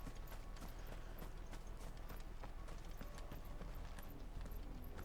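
Horse hooves clip-clop at a steady walking rhythm in Final Fantasy 16, soft and even over a low ambient hum, with no talking.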